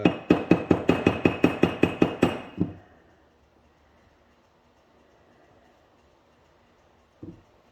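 A 16-ounce ball peen hammer taps rapidly on a car part, about a dozen quick, close metallic blows in even succession. One heavier knock follows, then a long near-silence broken by a single faint hit at the end.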